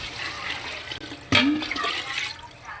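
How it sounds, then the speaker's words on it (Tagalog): Water is poured into a pot holding a kilo of glutinous rice with ginger, a short gushing splash that starts abruptly partway through and runs on as a steady close pour. "Lalagyan na rin natin ng tubig yan."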